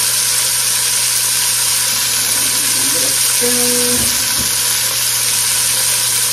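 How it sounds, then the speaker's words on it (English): Vegetables with bell pepper, rosemary and thyme sauté in a pot, a steady loud sizzle and hiss throughout, with a few brief tonal scraping or stirring sounds midway. "Okay, so we're just sauteing these vegetables a little bit."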